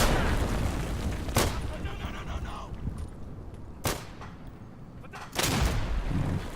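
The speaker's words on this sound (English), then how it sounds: "Tossing a grenade here!" A grenade goes off in the Day of Infamy game amid a battlefield din, with three sharp, loud blasts spaced a few seconds apart over constant gunfire and rumble.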